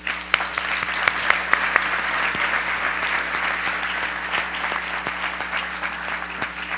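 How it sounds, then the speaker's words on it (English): A school audience claps steadily throughout, a dense even patter of applause at moderate distance with a few sharper claps standing out near the start. "I want all of us as adults to applaud you all for being here."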